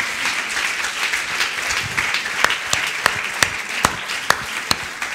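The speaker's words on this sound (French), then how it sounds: "je vais peut-être vous laisser effectivement applaudir" Applause from a small audience at a talk on parents and professionals, a steady patter of many hands with a few sharper nearby claps standing out, close and fairly loud with no voices over it.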